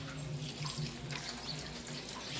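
Water runs steadily in the morning for watering a tulsi plant, a continuous tap-like gush heard close and alone for the whole stretch.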